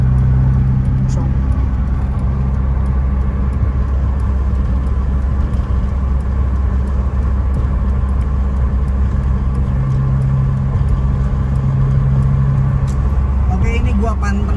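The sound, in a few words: BMW E30 M40 car driving in fifth gear on toll road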